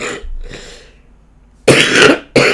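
A person coughs several times, two soft hoarse coughs followed by a pause and then two loud, harsh coughs close up.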